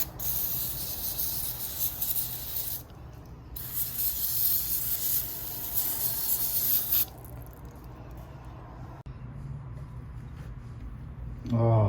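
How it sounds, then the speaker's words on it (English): Lubricant sprayed onto an old faucet on a 1948 cast iron slop sink, heard as hissing spray bursts with rubbing and handling noises, a quieter stretch midway, and a sharp knock near the end. "Let's spray some lube on it."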